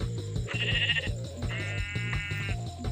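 Sheep bleating in Minecraft, two or three wavering bleats over a faint looping rhythmic background, close and clear, with no talking.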